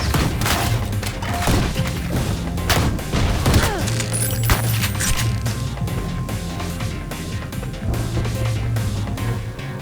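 Rapid, loud shotgun blasts with crashing impacts and debris fill the scene in the retro first-person shooter Ion Fury, a dense stream of sharp shots and thuds running nearly continuously with no talk over it.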